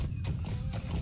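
Horse hooves clip-clopping at a quick ridden gait in a Lord of the Rings video game, a rapid close rhythmic patter of hoofbeats.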